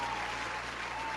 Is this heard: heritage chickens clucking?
no